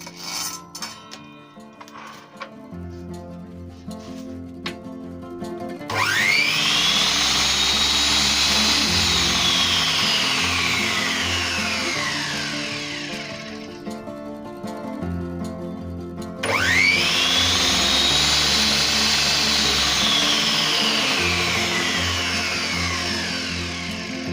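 A DWT KGS11-255 miter saw with its blade fitted is switched on twice, each time whining up loudly to full speed and holding a steady high motor roar, then slowly winding down, with rattling handling noises before the first start.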